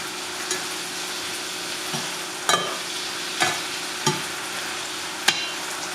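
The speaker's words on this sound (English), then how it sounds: "just stirring it around with your tongs" Onions and jalapenos are being tossed with tongs in a hot pan over high heat, giving a steady sizzle punctuated by several sharp clicks and scrapes of the tongs at irregular intervals.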